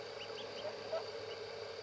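A few faint, short duck quacks come from a distance over a soft, steady background hiss.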